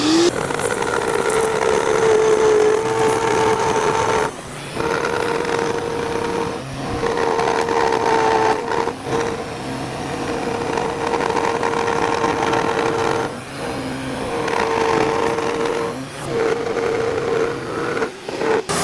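A router with a bearing-guided template bit cuts a guitar neck, producing a loud, sustained high-pitched motor whine with a steady tone and brief dips as the bit bites into the wood, no talking.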